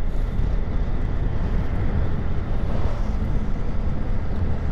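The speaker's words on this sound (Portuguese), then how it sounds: "O motor já tá no giro alto." A Honda CG 160 Fan motorcycle engine running at high revs, top gear, as a loud, steady broadband roar with heavy low rumble and wind buffeting, continuous throughout without talk.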